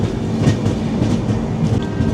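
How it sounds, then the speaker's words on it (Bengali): The Kanchankanya Express rolls into Sealdah station with a loud, steady rumble and rhythmic clickety-clack of wheels over rail joints, heard close and continuous. "ট্রেন পুরো টাইমেই আমাদের শিয়ালদা স্টেশনে অ্যারাইভ হচ্ছে"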